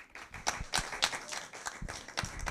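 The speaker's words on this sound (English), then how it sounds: "I think it would be a nice round of applause to be appropriate." A round of applause at a telethon for a Catholic schools office, with fairly sparse, uneven claps from a modest crowd, moderately loud.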